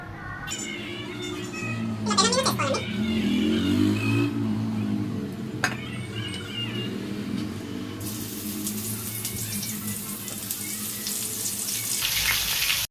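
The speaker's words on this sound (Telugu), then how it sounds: "ఆయిల్ వేసుకొని షాలు ఫ్రై చేసుకుందాం ఇప్పుడు" Shallots fry in oil with a steady sizzle that goes on throughout, along with occasional clinks and stirring noises from the pan.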